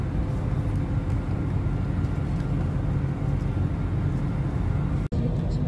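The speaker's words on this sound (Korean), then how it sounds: "이륙을 시작합니다." A passenger airplane takes off on a flight to Seoul, heard from inside the cabin as a loud, steady low engine roar that continues almost unbroken to the end.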